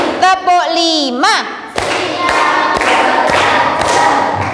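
A classroom of schoolchildren claps a rhythmic pattern together on their teacher's cue, sharp repeated hand slaps following a moment of excited young voices calling out.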